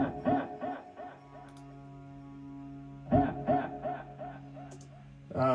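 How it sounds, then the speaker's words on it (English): A processed vocal in a music track, with a vocoder and a short echo on a single clipped word. Repeated robotic syllables pulse over sustained synth tones, hit twice in bursts and decaying between them. "So we got a vocoder and like a little echo"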